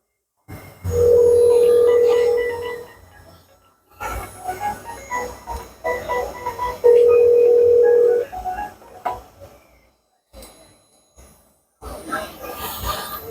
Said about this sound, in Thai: เครื่องนี้ก็เช่นเดียวกันครับจะโทรไปเบอร์หนึ่งร้อยนะครับ